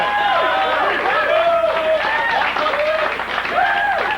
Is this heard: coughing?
no